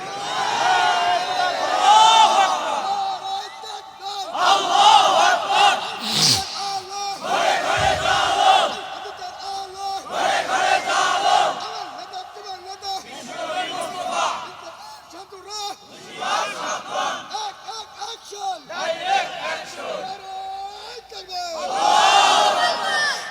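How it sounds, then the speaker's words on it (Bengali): A large crowd at an outdoor Islamic sermon gathering shouts takbir in unison, loud, repeated bursts of massed voices rising and falling in call-and-response waves over about twenty seconds. "একটা তাকবীর লাগান আগে দেখি।"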